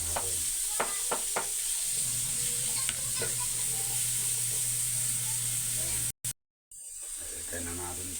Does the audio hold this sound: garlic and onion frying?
yes